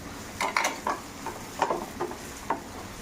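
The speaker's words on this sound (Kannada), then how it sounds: "ಗೋಡಂಬಿನೂ ಹಿಂಗೆ ಫ್ರೈ ಮಾಡಿ" Cashews frying with onions in a pan for a chutney, with a soft sizzle under a series of short stirring scrapes spaced across the clip, close and fairly quiet.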